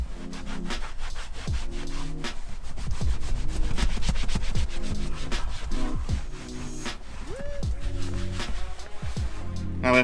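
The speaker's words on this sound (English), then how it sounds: "With the same cloth, just rubbing in what's left in there." A cloth rubs leftover Autoglym conditioner into a leather car seat, giving steady, close squeaky friction strokes with a woody, scraping texture.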